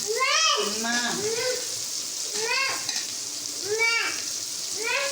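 Onions sauté in a pan for a village-style radish mutton curry, a continuous crackling sizzle running under a voice that keeps talking close by.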